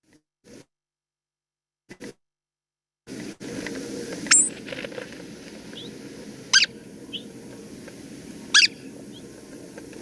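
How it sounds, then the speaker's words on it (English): Canyon towhee calling in Southeast Arizona, a few short, sharp squeaky-toy-like chirps spaced a couple of seconds apart over quiet outdoor background noise. "And then finally it popped up for me, canyon towhee"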